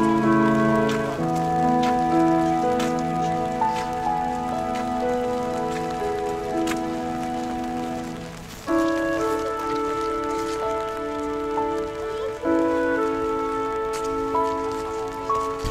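Steady rain patters on a surface beneath sustained, shifting tonal drones, a constant wet hiss with no voices.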